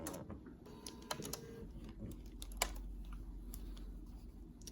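A sewing machine runs in short back-stitching bursts on a fabric scrunchie seam, quiet and close, with rapid mechanical clicking and a low motor hum between faint handling noises.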